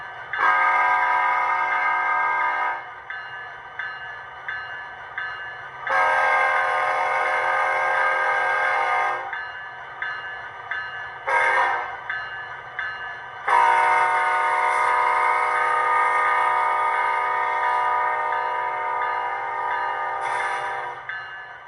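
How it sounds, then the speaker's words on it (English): A K5LLA air horn on an HO-scale model locomotive with a Doppler effect, sounding several loud sustained blasts with short gaps between them, the final long blast dropping in pitch, over a low mechanical hum. "it's also got a couple other neat features like this Doppler effect K5 LLA"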